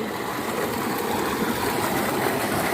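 Fresh running water pours steadily over large turnips being washed outdoors in a village, a close, continuous gushing and splashing with no talk.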